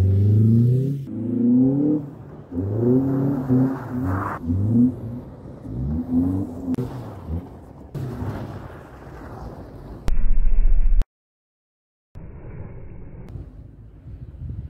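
A Renault Twingo driven in snow revs its engine in repeated rising and falling bursts, close and loud, broken by abrupt cuts and a moment of silence.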